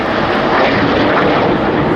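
Red Arrows jets flying a formation display at RIAT 2016, a loud continuous roaring jet noise overhead, steady and broad with no pauses.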